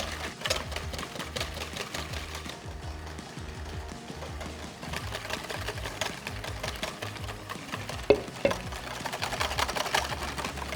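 Egg yolks and oil are whisked together in a bowl to make mayonnaise for tartar sauce, giving a steady, rapid, rhythmic clatter that runs close and continuous without any talking.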